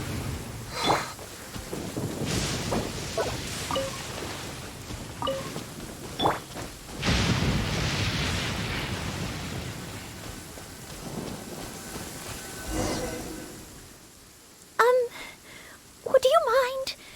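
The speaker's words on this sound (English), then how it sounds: "Did you know that the sound of thunder is the prelude to new life?" Steady rain and rumbling thunder fill a Genshin Impact game scene, with voices talking over the storm and a few sharper cracks near the end.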